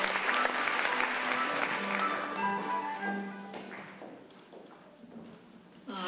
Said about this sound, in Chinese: 现在我们就以热烈的掌声来欢迎邱董事长为我们致辞